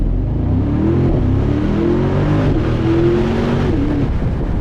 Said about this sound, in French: le kiff c'est l'échappement là pour l'instant dans la voiture